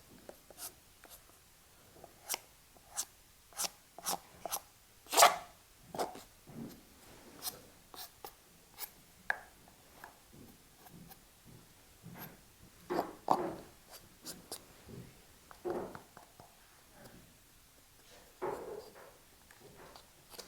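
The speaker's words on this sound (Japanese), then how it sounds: "これ定規はですね、傷をつけるほどじゃないんですけど、ちょっと端っこが鋭利なので、これでさっと撫でます。" A ruler with a slightly sharp edge is stroked quickly across a leather shoe to age it, making a run of brief, dry scratchy strokes up close at an irregular rhythm, with no talking.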